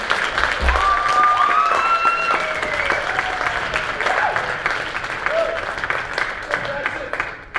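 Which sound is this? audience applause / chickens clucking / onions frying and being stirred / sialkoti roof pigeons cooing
audience applause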